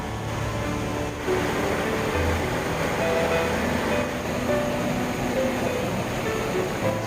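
Water of Gucheon waterfall in the Muju Gucheondong valley pours down rock in a steady, broadband roar that stays even throughout, with no voices.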